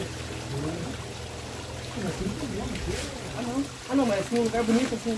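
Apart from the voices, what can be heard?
waterfall rushing water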